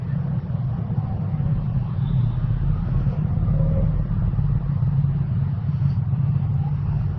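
Busy road traffic in an Indonesian city, congested after the long Lebaran holiday, forms a steady loud low rumble of passing cars and motorbikes with faint engine revs, continuous throughout.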